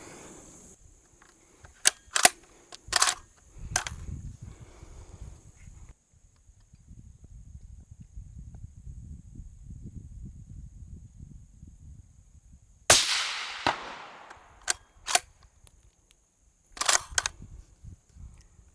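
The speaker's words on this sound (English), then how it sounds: "We're going to take 3 really smooth, easy shots just to make sure that everything is dialed in." Three sharp rifle shots from a Ruger Gen II Predator fired at a 200-yard target, each a loud crack with a trailing echo, separated by quiet stretches and low rustling, followed by a few more shots ringing off steel.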